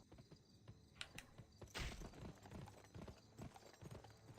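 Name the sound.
horse hooves clip-clop in video game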